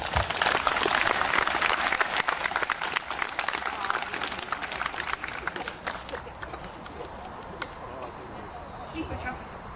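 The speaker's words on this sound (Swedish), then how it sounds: "En applåd." Applause from a crowd at an outdoor sing-along event in Alvesta, Sweden, greeting a prize winner, strong at first and then slowly thinning out and fading.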